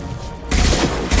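Gunfire from the video game Mass Effect 2 on Insanity difficulty, a sudden loud burst of shots cutting in mid-clip with a second blast at the very end, over game background sound.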